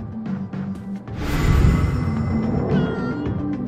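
A cat named Valkyrie meowing in Life is Strange: True Colors, several drawn-out, whining meows rising and falling over a low background rumble, fairly close and clear.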